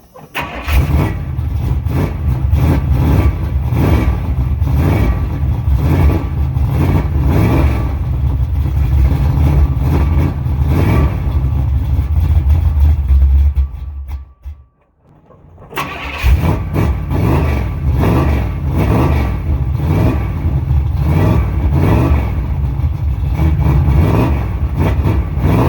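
A 1986 Chevrolet C10 truck engine runs roughly and struggles to idle, a loud lumpy rumble that dies out briefly before cranking and firing back up and settling into the same uneven idle.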